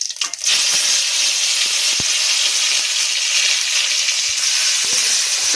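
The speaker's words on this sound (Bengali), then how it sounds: "দিলাম জিরে ফোড়ন, পেঁয়াজ আর টমেটো।" Cumin seeds, onion and tomato dropped into hot oil in a pan, a loud close sizzle that bursts up at once and then hisses steadily, with a few small pops and no talk.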